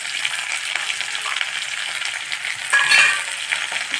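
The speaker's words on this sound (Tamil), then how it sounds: "இதை வந்து நல்லா வதக்கிக்கலாம்" Drumstick leaves and onion sauté in a hot pan for a rice dish, a steady close sizzle with stirring scrapes that swell briefly near the end, no talk.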